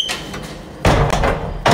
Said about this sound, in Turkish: Bir kapıyı kapa